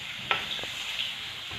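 Chutney ingredients frying in a pan, a steady bright sizzle with a couple of soft stirring scrapes, close and even for a brief moment.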